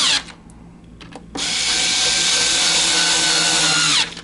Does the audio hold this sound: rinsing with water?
no